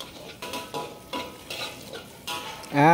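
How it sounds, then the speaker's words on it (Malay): Garlic and chili sauté in hot oil in a pan, a loud close sizzle broken by regular stirring scrapes about every half second, ending in a sudden swell of frying. "Tumis bawang putih lada tu masak dulu dah"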